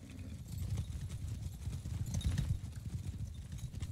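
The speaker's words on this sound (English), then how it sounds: "Horses!" Horses galloping in the video game Mount & Blade II: Bannerlord, a quiet, dense rolling patter of many hoofbeats thudding continuously in the distance.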